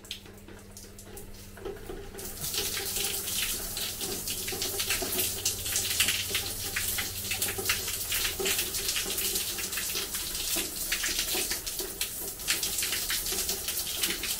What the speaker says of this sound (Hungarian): hideg vízben is le tudtunk zuhanyozni